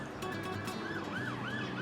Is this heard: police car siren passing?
yes